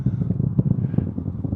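A low, rumbling SpaceX rocket launch roar heard in person, with gusty, buffeting texture, steady and fairly distant, without any talking.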